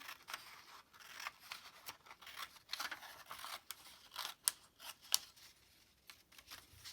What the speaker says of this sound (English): you pick up the top of the fold and you cut across to the fold.